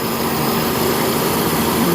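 A car engine idles steadily and loudly up close while its idle speed screw is turned, a constant buzzing drone with a faint mechanical whine and no talking.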